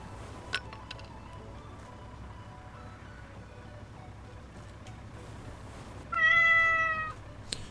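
A single cat in the video game Pumping Simulator 2 gives one clear, close meow near the end, after a stretch of quiet ambient hum with a few faint clinks.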